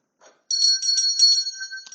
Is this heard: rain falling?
no